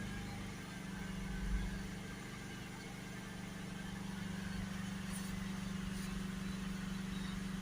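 The 2.0 dCi diesel engine of a Renault Espace, which has a badly blocked DPF, is held at about 3000 RPM. It gives a steady, fairly faint mechanical drone and hum that stays constant throughout, with no talking.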